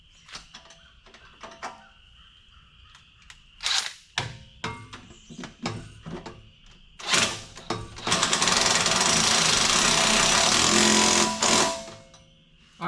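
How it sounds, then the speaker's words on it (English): An impact wrench tightening a shock absorber bolt on a 1995 Mustang, with several short ratcheting rattles and clanks and then a loud sustained hammering burst of about three seconds, close up. "now I should be able to use my impact and my wrench to kind of, you know, get the rest of this on"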